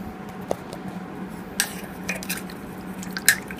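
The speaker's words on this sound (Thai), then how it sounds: "ขั้นตอนของการล้างกาวเก่าโดยเราจะใช้ น้ำร้อนนะฮะ ในการล้างกาวเก่าออก" Hot water is used to wash old glue off a broken violin neck. It sounds as soft wet squishes and drips with a few small sharp taps and clinks, quiet and close, with no talking.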